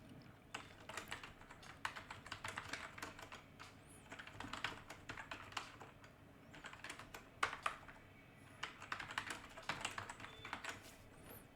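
Continuous keystrokes on a computer keyboard while text is entered into a document, coming in quick bursts with short pauses, fairly quiet and close, with no talking.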